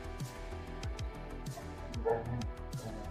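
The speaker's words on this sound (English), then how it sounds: "The dogs are going crazy." Several dogs bark and yip in repeated bursts through a busy background, the barks fairly loud and close, with a whimpering note near the middle.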